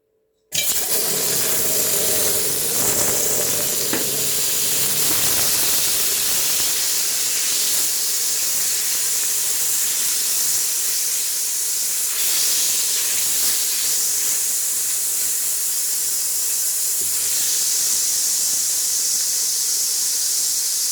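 Butter sizzles in a saucepan on the stove, a loud steady hiss that begins abruptly and holds continuously, close and alone without talk.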